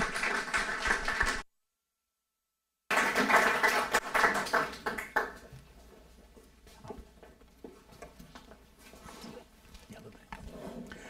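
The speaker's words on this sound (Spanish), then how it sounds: "un aplauso por favor" An audience at an evening church talk applauds to welcome a bishop. The clapping is dense and fairly loud for about five seconds, with a brief dropout early on, then thins into softer scattered claps.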